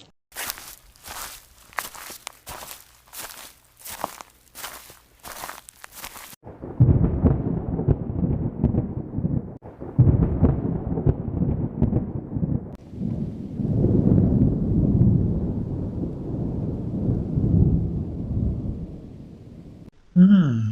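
A cartoon thunderstorm opens with a series of sharp crackling thunder bursts, then gives way to heavy, steady rain with low rumbling that continues to the end, and no voices are heard.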